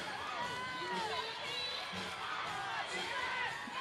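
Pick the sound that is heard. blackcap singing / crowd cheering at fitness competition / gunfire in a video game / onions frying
crowd cheering at fitness competition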